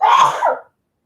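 One sharp, loud sneeze, close up, followed by silence.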